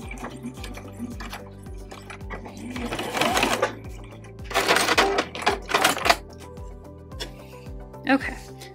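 A sewing machine runs in rhythmic bursts as it stitches the corners of a small zippered fabric tote, its needle clattering steadily and close, with louder, denser stretches midway.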